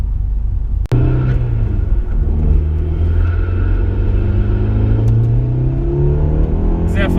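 An Audi A4 with a K04 turbo upgrade accelerates hard from inside the car, its engine a loud, deep rumble that rises in pitch through the gears, with a brief click near the start.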